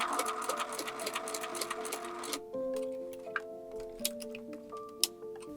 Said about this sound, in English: Now I'm just going to run a stitch around the whole pocket